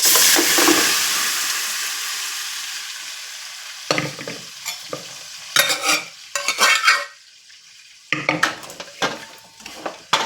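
Mutton sizzles loudly in a hot pan, with bursts of scraping and clanking as it is stirred, then a steady hiss between the stirs.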